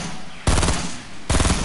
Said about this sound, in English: They're shooting, bro.